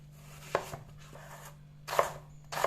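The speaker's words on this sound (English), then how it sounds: "I'm just laying the slices flat and slicing again like this." Knife slicing chayote (cho cho) on a cutting board, with a few sharp, close chops spaced irregularly and then a quick cluster at the end, fairly quiet, with no talk.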